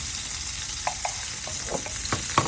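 Hot cooking oil for Filipino sautéed sardines sizzles steadily in a pan, with several sharp spits and pops of splattering scattered through the close, continuous hiss; no talking.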